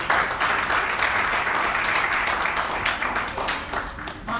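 A church congregation at a Spanish-language service claps together in a dense, lively burst of applause, loud and continuous, gradually easing toward the end.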